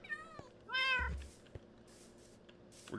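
A cat meows in the Minecraft video game, two or three clear, close, high-pitched mews separated by quiet gaps and a few soft clicks.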